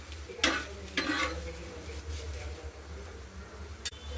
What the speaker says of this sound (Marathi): टमाटरला या पद्धतीने उलटपुलट करून मिरच्यासोबत भाजून घ्यायचं।